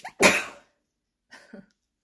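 A single loud, sharp sneeze close by, followed after a pause by a couple of soft, short vocal sounds.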